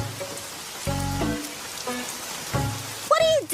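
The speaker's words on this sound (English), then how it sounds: "Hey, it's raining out here." Steady rain falls in an anime scene, a soft continuous hiss spread across the whole stretch, with music-like tones and a brief rising whistle near the end.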